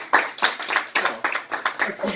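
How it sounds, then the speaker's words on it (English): A studio audience claps for Philadelphia radio host Anthony Gargano at an Eagles roundtable, a short spell of distinct, fairly close handclaps in a steady rhythm, moderately loud. "You got the applause as well."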